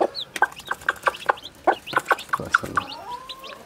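Newly hatched chicks peep in quick, high chirps while a hen clucks nearby. The calls come close and loud in an irregular stream, and a person speaks briefly.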